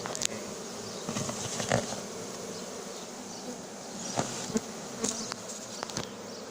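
A honey bee swarm buzzing behind cardboard during a swarm recovery in Soignolles-en-Brie: a dense, continuous droning hum, close and steady, with occasional scraping and rustling as the cardboard is handled.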